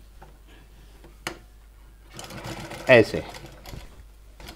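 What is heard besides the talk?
sewing machine stitching a blouse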